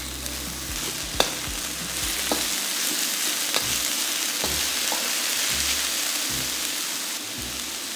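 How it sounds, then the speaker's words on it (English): Broccoli sizzles and crackles steadily in a hot wok, with a few sharp clanks of a utensil against the metal. "Fry the broccoli for a minute."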